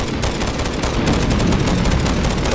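Rapid, continuous gunfire at a mimic monster in Minecraft: dense, overlapping shots fired in quick succession, loud and close, with no speech.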